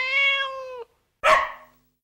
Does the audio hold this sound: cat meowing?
yes